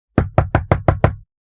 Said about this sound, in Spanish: oyó cómo llamaban de nuevo a la puerta